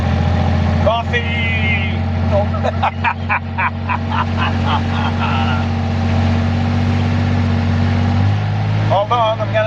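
Quad bike engine idling steadily on a farm, a loud continuous low drone with a person calling out over it and other voices briefly in the background.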